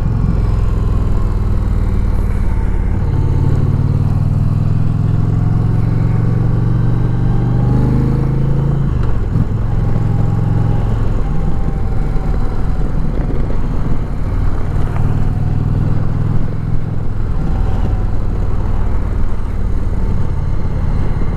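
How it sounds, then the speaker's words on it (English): An Indian Challenger touring motorcycle pulls hard in fourth gear around 40 mph, its loud engine drone rising and falling steadily under continuous wind rush, with no talk. "Now I'm in fourth gear, we're going 40 miles an hour, and it picks right up."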